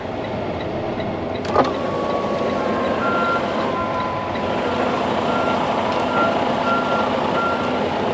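A truck moving a trailer emits steady, evenly spaced reversing beeps over a constant engine drone, with a brief clank early on and no talk.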